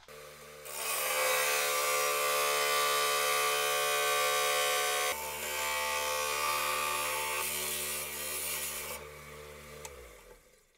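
A saw slicing through a rough gemstone nodule, a steady close grinding whine with a brief pause partway, then continuing before winding down to silence at the end.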